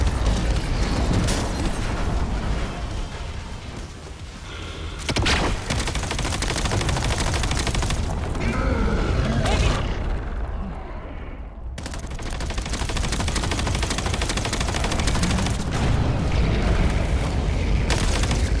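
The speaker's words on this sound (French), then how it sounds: "Attention aux bombes!" Bombs exploding amid gunfire in the video game Call of Duty Black Ops 7, loud and continuous, with heavy blasts and rapid shots. The din briefly thins near the middle, then the full barrage resumes.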